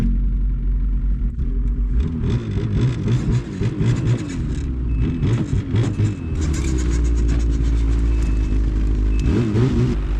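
A Ski-Doo 850 E-Tech Expedition Extreme snowmobile engine rumbles and revs unevenly as the machine is driven down a ramp off a truck, staying loud and close throughout.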